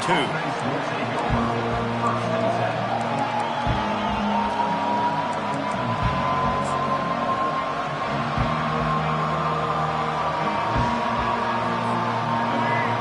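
Football stadium crowd during a televised game, a loud continuous roar of cheering and whooping with band music or chants mixed in, steady and dense throughout.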